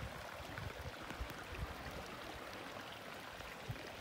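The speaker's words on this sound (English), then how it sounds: "The creeks are running." Creek water running over boulders on a dormant volcanic mountain in spring, a steady broadband rushing and trickling close by, continuous and even throughout with no talk.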